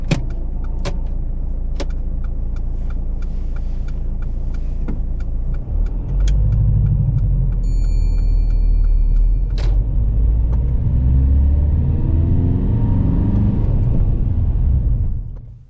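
A car pulls away during a driving test: a steady engine rumble and road noise run throughout, with a few light clicks early on and the engine note rising toward the end, no talk.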